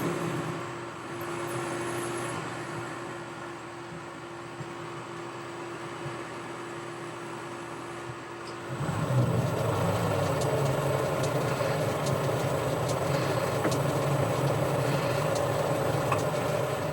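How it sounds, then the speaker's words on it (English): A metal lathe facing a part to length, running as a steady mechanical hum that jumps to a louder, rougher, broadband cutting roar partway through and holds steady, close and without speech. "I've put the part back in the chuck and I'm just facing it off to length."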